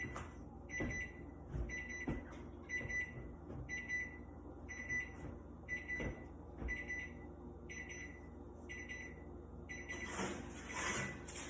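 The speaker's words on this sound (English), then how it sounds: "Oh, there's my timer." A kitchen timer goes off while chocolate chip cookies bake in the oven, sounding a series of about eleven short, high, evenly spaced beep bursts, with a louder clatter at the very end.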